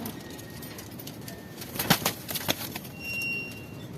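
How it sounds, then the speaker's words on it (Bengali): A pigeon flaps its wings in a few sharp, close bursts as it is caught by hand, followed by a brief soft rustle. "তো আমি কবুতরটা এখন আপনাদের সামনে একদম অল্প হাতে ধরবো।"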